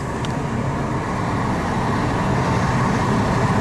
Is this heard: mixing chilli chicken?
no